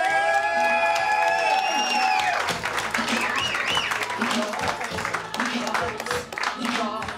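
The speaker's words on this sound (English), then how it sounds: "So make a lot of noise. Start clapping right now for Joe Fattorini!" A comedy club audience applauds and cheers as a comedian takes the stage, loud sustained clapping with whoops and shouts, plus a voice over the crowd near the start.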